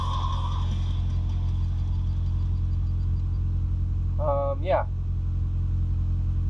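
A Honda Del Sol with a new PLM exhaust system idles with a low, steady rumble close by, while a voice speaks briefly near the end.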